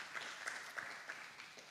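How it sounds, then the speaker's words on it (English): An audience applauds at a national multistakeholder youth forum on sustainable development goals, a faint, steady patter of many hands clapping from a distance that lasts for the whole moment. "A big round of applause for the State Department for Planning."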